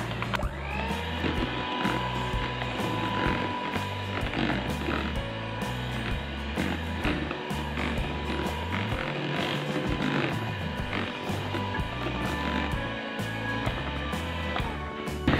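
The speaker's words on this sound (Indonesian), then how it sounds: "Mixer kembali ya." An electric mixer whirs steadily and continuously as it beats black sticky rice cake batter with vegetable oil, a close, busy mechanical drone with scraping clatter throughout.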